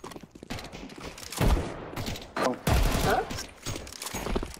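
Video game gunfire crackles in sharp bursts of shots spread across a few seconds, some loud and close, with a voice talking in between.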